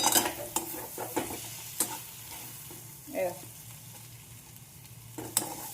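Rice fries and is stirred in a hot pan in a home kitchen, a low sizzle punctuated by several sharp scraping clinks of the spoon against the pan, quiet and close.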